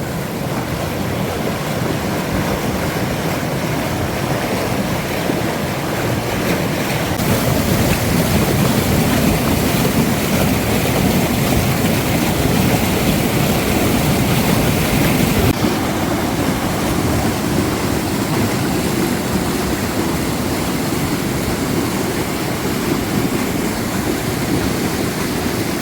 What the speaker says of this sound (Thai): ดูนะครับน้ำไหลแรงมากเลยนะครับ